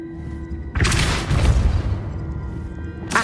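Depulso force-push spell cast in Hogwarts Legacy, a sudden loud whooshing burst that rumbles for about two seconds, then a short echo and a fresh burst at the end.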